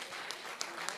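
Applause for Venkat at a Kuchipudi Rangapravesam dance debut, a brief wash of audience clapping heard at a moderate distance, dense and even, lasting about a second.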